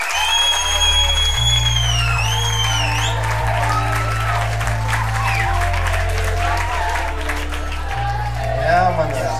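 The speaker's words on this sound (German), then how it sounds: "Applaus für Samuel Sibilski." Applause and cheering from a crowd for a performer at a German rap or battle event, sustained for several seconds over loud thumping bass music with a sung vocal line, plus scattered whoops.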